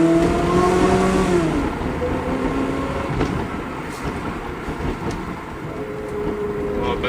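A Ferrari 360 engine revs and drones from inside the car, with rising and falling harmonic tones early on, then a steady rumbling cruise with some road noise, loud and close throughout.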